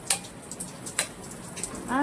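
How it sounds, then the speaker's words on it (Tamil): Rain falls outdoors at a rainy home, heard as a soft, steady patter with scattered sharp drips close by, and a voice briefly begins at the very end. "எப்படி மழை பெய்யுது பாருங்க, தெரியுதா?"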